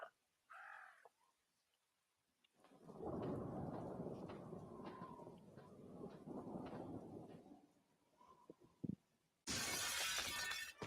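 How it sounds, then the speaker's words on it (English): Window glass smashed by an elbow in a video game, a sudden bright crash of shattering glass at the very end, after a long rumbling, stormy ambience with faint chirps. "How dare you smashed my window?"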